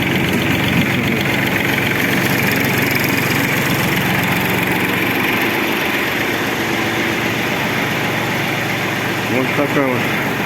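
A Japanese Iseki TF-223 mini tractor engine idles steadily and smoothly throughout, a continuous low rumbling drone with faint talking underneath.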